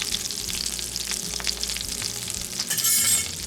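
Flour stirred into melted butter sizzles steadily in a frying pan holding leftover sausage drippings, a loud, close, continuous crackle with a few light clinks of a utensil against the pan near the end.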